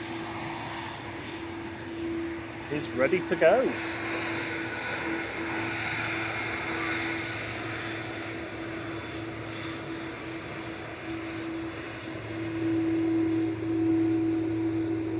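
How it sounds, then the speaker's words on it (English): An Aer Lingus Airbus A330-300 with CF6 engines at Manchester Airport gives off a sustained, fairly distant jet-engine roar with a steady whine, while a voice briefly speaks early on. "This is an A330-300 with its noisy CF6 engines"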